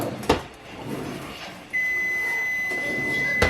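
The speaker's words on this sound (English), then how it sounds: "Y'all hear my little timer going off?" Kitchen timer going off while rice finishes cooking on a stovetop, a steady high electronic beep sounding continuously for a couple of seconds after a few soft kitchen clatters.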